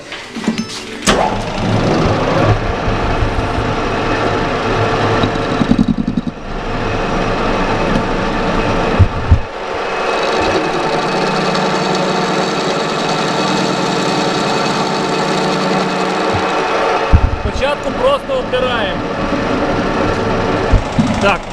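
A metal lathe takes a light finishing cut on a shaft during a shaft and housing repair, giving a loud, steady mechanical whine and hum that holds for most of the stretch, with brief interruptions and a short pause near the start.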